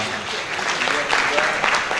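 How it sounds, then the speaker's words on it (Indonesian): Conference audience at a security gathering gives a brief round of applause, moderately loud and continuous clapping with a faint voice underneath. "Tepuk tangannya dulu dong."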